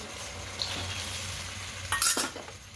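Cornflour slurry being stirred into chili soybean sauce in a pan, a soft steady scraping and bubbling with a brief louder spatter near the end, no talking.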